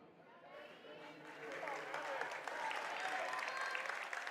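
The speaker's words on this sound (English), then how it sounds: "earn a round of applause by the Springboro faithful" Springboro fans in a high school girls' basketball gym applaud a player heading to the bench, a faint crowd clapping that swells and holds steady beneath crowd noise and chatter.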